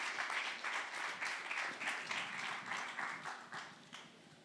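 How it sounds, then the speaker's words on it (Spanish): A church congregation at a discipleship class claps in quick, uneven bursts that pulse and fade, a modest, fairly distant round of applause with no talking over it. "Dale un aplauso al Señor"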